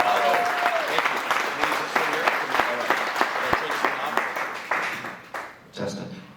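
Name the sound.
audience applause for speaker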